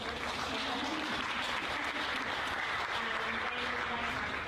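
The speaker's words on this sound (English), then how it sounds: "take some snaps or claps if you have to" An audience at an expat entrepreneur awards event at a Hard Rock Cafe applauds, a steady dense wash of clapping that holds evenly throughout at moderate distance.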